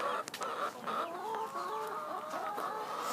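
Free-ranging backyard chickens, including a golden penciled Hamburg and a Barred Rock hen, clucking and murmuring continuously nearby, with soft overlapping calls and a few brief louder squawks.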